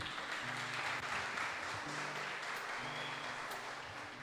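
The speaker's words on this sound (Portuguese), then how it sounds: "Quem pode aplaudir o Senhor, queridos?" A church congregation applauds during a worship service, a steady wash of clapping at moderate level with faint voices mixed in and some low tonal hum underneath.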